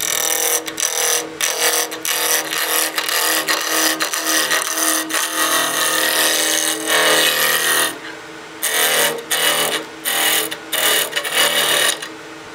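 Wood lathe spinning at about 2200 RPM while a tool roughs down a small birdhouse ornament blank, giving a steady close scraping, rasping hiss in bursts, with brief pauses between passes.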